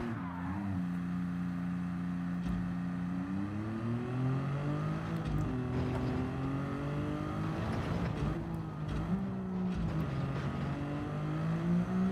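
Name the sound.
car engine in a racing video game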